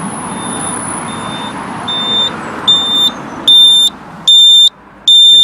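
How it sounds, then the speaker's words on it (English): A Jaguar XF indicator beeper gives a series of high electronic beeps in a regular rhythm, growing louder and longer as it continues, over a faint background hum. "You can hear it beeping."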